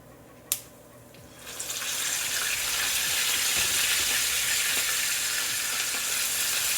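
Oxtail meat frying in hot oil starts with a sharp clack, then swells into loud, steady sizzling and crackling that holds to the end.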